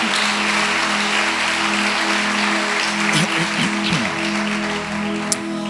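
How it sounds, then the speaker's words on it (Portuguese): A church youth-event crowd claps steadily in a broad wash of applause, with a sustained musical tone underneath and a brief sharp click near the end. "Forte esse aplauso para Jesus"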